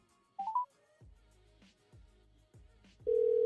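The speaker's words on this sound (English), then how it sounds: "At least it's dialing, so I'm paying a phone bill." A telephone call connecting, with short electronic tones, then a series of repeating ring pulses and finally a loud steady tone at the end, heard alone with no talking.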